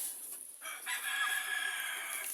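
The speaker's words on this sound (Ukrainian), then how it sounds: "Ось і курочки нюгемшери." New Hampshire chickens cluck and a New Hampshire rooster crows nearby, with a steady chorus of poultry sounds over a hissy background.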